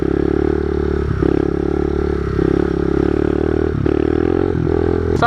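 A pit bike engine fitted with a new exhaust revs hard against the rev limiter, a loud, close, continuous buzzing drone broken by brief stutters as the limiter cuts in, with no talking.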